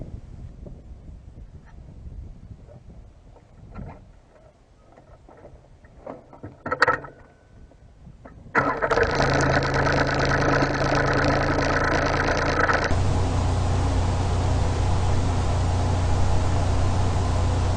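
A tractor hilling potato rows idles and rumbles at close range, then grows louder and steadier as it works, with a constant mechanical drone and no voices.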